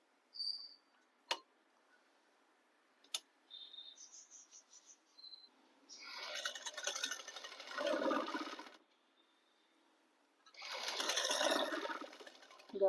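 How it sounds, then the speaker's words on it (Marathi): A sewing machine stitches a fold in old trouser fabric being remade into a shirt, two close bursts of rapid mechanical whirring separated by quiet pauses, with a few light clicks and handling noises beforehand. "आता फोल्डिंगची टिप मारते."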